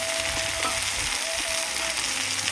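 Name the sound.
spice paste frying in a pan for fish curry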